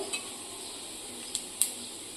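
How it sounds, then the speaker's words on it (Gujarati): Cumin seeds sizzle in hot oil in a pan for sabudana khichdi, a steady bright crackling hiss broken by two or three light metallic clinks of a spoon, with no talking. "ચાલો આપણું તેલ ગરમ થઈ ગયું છે તો હવે આપણે આમાં જીરું નાખીશું"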